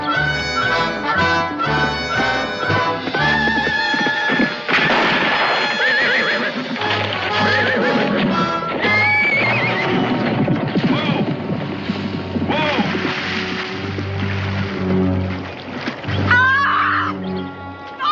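A gun-shy horse in a 1969 western drama neighs and whinnies loudly and repeatedly, hooves clattering as it bolts, mixed with dramatic orchestral score and other scene noise.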